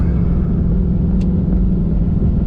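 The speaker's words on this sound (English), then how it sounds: "Sounded like it did a burnout" Pontiac G8 doing a burnout at a test-and-tune drag night, a loud, steady low rumble of engine and tires that holds at one level throughout.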